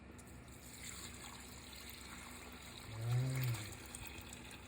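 Meat broth poured off cooked meat to separate out the fat, a brief liquid gush swelling in the middle of a quiet, faint background, with a single short spoken word nearby.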